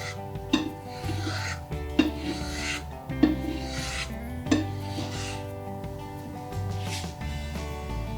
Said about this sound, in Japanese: アジを切っていきます。